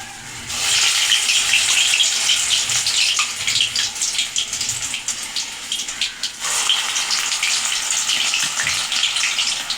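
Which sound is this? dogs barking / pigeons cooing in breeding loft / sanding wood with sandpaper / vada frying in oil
vada frying in oil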